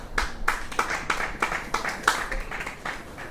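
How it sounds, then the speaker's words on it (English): Scattered, sparse hand claps from spectators on a balcony at a women's football match, a dozen or so irregular claps at moderate distance with light crowd murmur beneath. "A round of applause from the balcony here as Zoe Benson, the 2-goal scorer, makes way."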